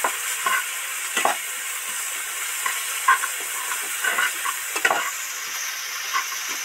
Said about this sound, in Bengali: এবার একটু লঙ্কা গুঁড়ো দিয়ে দিচ্ছি, হলুদ গুঁড়ো অ্যাড করছি।